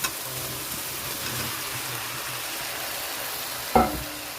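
Young jackfruit and fried potatoes being stirred and sautéed in spice paste for a jackfruit-prawn dish, a low steady sizzle with a sharp spatula scrape near the end.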